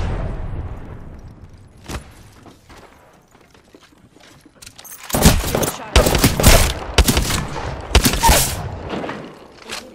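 Gunfire in Apex Legends: a few scattered shots early on, then dense bursts of loud, close shots in quick clusters over the second half, with faint voices underneath.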